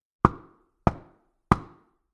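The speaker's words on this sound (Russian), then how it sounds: "он постучал в дверь" Three firm knocks on a wooden door, evenly spaced about two-thirds of a second apart, each sharp and close with a short ringing decay, heard alone in silence.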